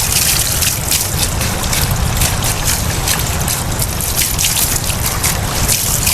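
Water from a cold mountain spring gushes continuously over rocks, a loud, dense, unbroken splashing rush close by, with no pauses.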